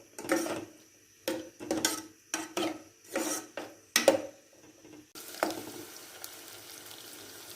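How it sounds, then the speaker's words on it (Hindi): Onions frying in a pan, heard as about seven rhythmic bursts of spatula stirring and scraping, then a softer, steady sizzle near the end; no voices. "प्याज को फ्राई करेंगे।"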